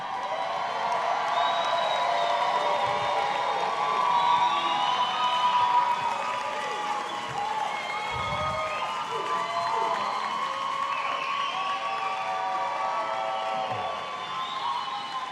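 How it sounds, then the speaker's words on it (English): Large graduation ceremony crowd at Life University cheering, screaming and squealing continuously, with high shrill whoops rising over a dense, steady roar of voices. "this crowd has been characterized by really excellent screamers and squealers"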